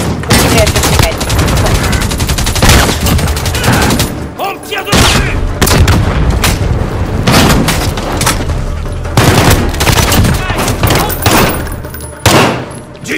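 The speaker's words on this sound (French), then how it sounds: "On tire dessus." Dense, loud gunfire in the Call of Duty Modern Warfare multiplayer mode, with bursts of automatic fire and heavy booms running almost without a break. Fire briefly drops near the fifth and twelfth seconds before resuming at full intensity.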